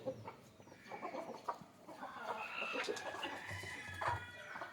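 Native country chickens cluck and chatter in a busy, overlapping flock as their coop is opened in the morning, with occasional louder calls standing out close by.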